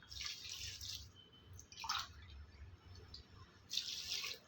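Water pours into a pot for drumstick leaf soup in a home kitchen, with splashy gushes at the start and again near the end and quieter trickling in between.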